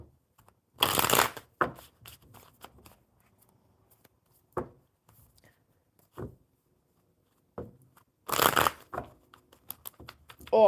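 A deck of playing cards is shuffled in two bursts of riffling, each a dense, crisp flutter about half a second long, with scattered soft handling clicks and taps in between. The sounds are close, at moderate volume, and no one talks.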